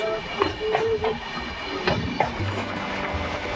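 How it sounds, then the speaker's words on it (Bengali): The Shantiniketan Express between Howrah and Bolpur runs at speed with a steady interior rumble and a few rhythmic wheel clacks, close and continuous. "ট্রেন ভালো স্পিড নিয়ে নিয়েছে, 127, 128"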